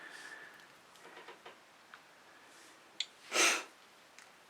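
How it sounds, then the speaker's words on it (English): Nasal sniffing from someone with a cold, several soft sniffs followed by one loud, sharp sniff close to the microphone in a quiet room. "I'm sorry about the sniffing."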